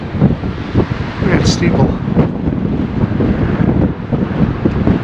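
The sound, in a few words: strong wind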